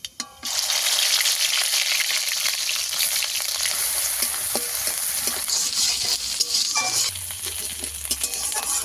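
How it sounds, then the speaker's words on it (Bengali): Ground onion paste sizzles loudly in hot oil in a wok, a dense, close frying hiss with scattered pops and stirring scrapes throughout. "পেঁয়াজ ভালো করে ভেজে নেব।"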